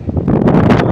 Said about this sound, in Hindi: बहुत हवा चल रही है, आपको हवा की आवाज़ भी आ रही होगी